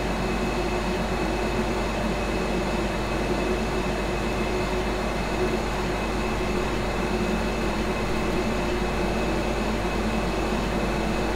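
A Desiro ML mainline passenger train rolls through Ulmitz in Train Simulator 2016, giving a steady, even rumble and drone of running gear with a constant motor hum and a faint high whine, unbroken and with no talk.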